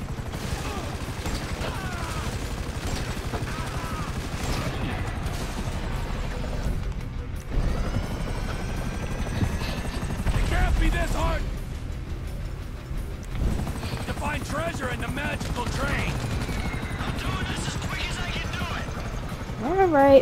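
In the video game Grand Theft Auto V, helicopter rotors drone over scattered gunfire and mechanical rumble, with voices talking over the busy, continuous action throughout.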